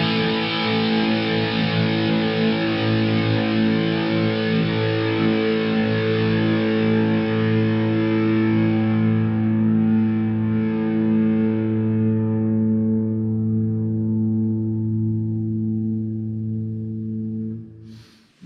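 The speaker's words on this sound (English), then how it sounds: "Let's do a sustain test just to see how it sustains." A Kramer Assault Plus electric guitar rings out through a BK Butler 6L6 power amp and Celestion Greenback speakers at moderate volume, holding one sustained distorted chord for about seventeen seconds. The high overtones fade first, and the note finally cuts off.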